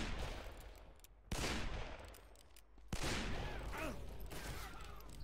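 Video game gunfire in Call of Juarez, with sharp shots kicking off dense bursts of firing and booming echoes that continue without a break, mixed with mechanical clatter.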